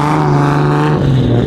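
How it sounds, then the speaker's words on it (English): Several cars idling and revving together as they start up at the end of a car show, a steady, loud, close engine rumble with a slight shift in pitch partway through. "now is the interesting time where we get to hear every single car in here start up"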